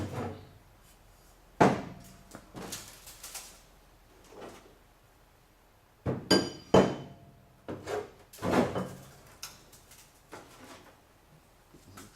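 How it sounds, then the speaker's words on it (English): The trunk lock of a 1976 Trans Am SE is worked open, giving a handful of close clunks, rattles and metallic knocks spread irregularly across the clip, with quiet gaps between and no talking. "unlock this trunk."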